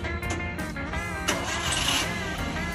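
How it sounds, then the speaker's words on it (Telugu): A used car's engine cranks and starts, then settles into a steady idle with broadband mechanical noise held at a fairly constant close level throughout, with no talking. "ఒకసారి వెహికల్ స్టార్ట్ చేసి మీకు ఇంజన్ నాయిస్ కూడా చూపిస్తాను"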